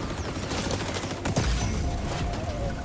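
A grenade goes off in the XDefiant shooter game, a sudden low boom landing in the middle of dense, continuous gunfire that runs through the whole short stretch.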